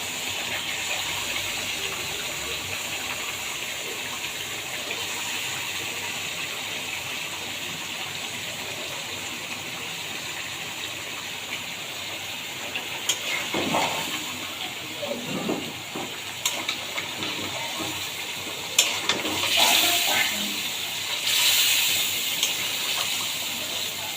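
Chicken pieces going into a pan of fried spices, raising a wet sizzle and gush of moisture over a steady background hiss, with stirring clatter toward the end; no talk.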